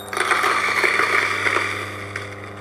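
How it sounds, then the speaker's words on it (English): A DF54 coffee grinder running steadily as it purges beans, a continuous close whirring motor drone with gritty crunching over it for the whole stretch, fading slightly near the end. "Turn the grinder on."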